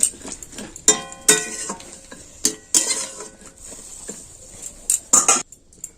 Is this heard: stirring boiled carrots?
yes